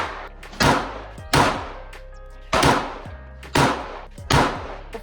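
Five rifle shots fired with Tula ammunition, sharp loud cracks spaced roughly a second apart, each trailing off in a short echo, close by and with no talk.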